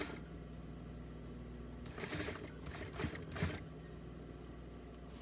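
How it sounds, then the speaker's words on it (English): A sewing machine stitches a doll bodysuit in a couple of short rapid bursts of needle clatter over a quiet, faintly humming room, then stops. "Sew it down."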